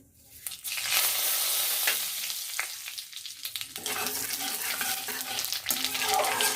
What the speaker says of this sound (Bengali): কালো জিরেটা ভাজা হয়ে আসলে